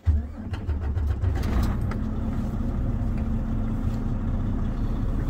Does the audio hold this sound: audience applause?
no